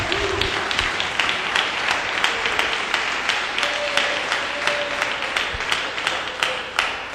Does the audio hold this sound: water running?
no